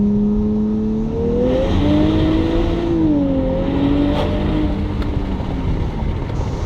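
A Nissan Z with a synchronized automatic transmission revs up to 7,000 rpm, its engine tone climbing, wavering and easing back in one sustained, loud, close pull with no speech.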